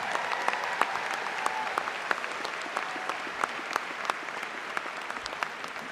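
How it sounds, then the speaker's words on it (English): Audience clapping steadily at a UC Irvine School of Biological Sciences commencement ceremony for the faculty, a dense continuous patter of many hands held at an even level throughout with scattered sharper claps. "Let's give them a round of applause."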